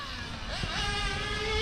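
A Mugen MRX6X nitro RC car with a Novarossi engine screams past under braking and acceleration, a high buzzing whine that sweeps up in pitch and holds, close and loud.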